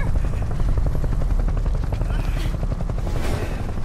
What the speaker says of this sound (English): This is not a good helicopter. This is a bad helicopter.